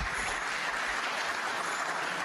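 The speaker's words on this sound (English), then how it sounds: "Give a round of applause." Audience applause fills a conference closing session, a steady wash of clapping from many hands that carries evenly through the whole stretch with no voices over it.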